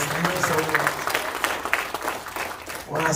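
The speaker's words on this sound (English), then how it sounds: "Y'all give a round of applause, please." Congregation applauding during a Sunday morning worship service at Mount Vernon M.B.C. church, steady clapping throughout with a speaker's voice running over it.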